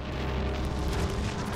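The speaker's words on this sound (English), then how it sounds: "Taking advantage of the invuln and activating those explosions." Explosions in the video game Wolfenstein: Youngblood form a thick, continuous rumbling roar, loud and dense, with no distinct separate blasts.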